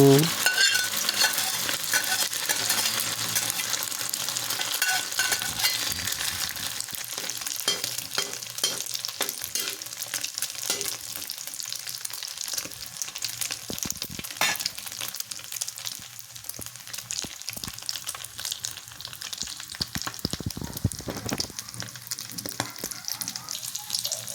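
A sardine and egg omelette cooking in a pan on the stove, a bright continuous sizzle with frequent scraping and stirring clatter throughout, loudest at the start and fading slightly later on.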